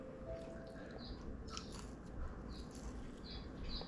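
Someone chews a crunchy snack close up, soft crisp bites and crunches repeating irregularly over a low background hum, with no talk.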